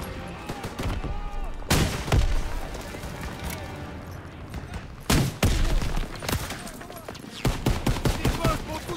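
Gunfire in the World War II shooter game Call of Duty WWII, with loud bursts of rifle and machine-gun fire and heavy booms from nearby amid the battle noise, while soldiers shout in French over the shooting.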